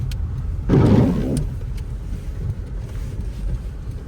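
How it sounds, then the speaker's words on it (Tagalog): Low, rumbling wind buffets the microphone during a snowstorm in Sweden, with one stronger gust near the start, then a steady roar settling underneath. "Ang lakas pa ng hangin."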